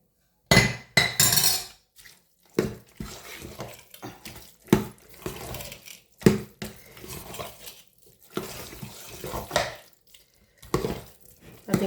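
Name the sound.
spoon stirring ven pongal in a pot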